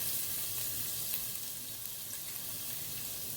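Onion and garlic fry in a pan with a steady, close sizzle and crackle that runs continuously without any talking.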